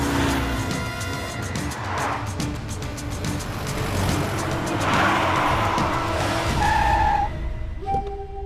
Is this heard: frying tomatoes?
no